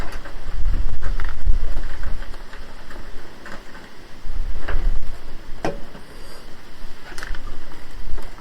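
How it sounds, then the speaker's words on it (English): Rain falls outdoors during work on a Fiat 500 front wing, a steady broadband hiss with gusty wind rumble that swells and eases, plus a few sharp drip-like ticks, with no talking. "Oh, here comes the rain again."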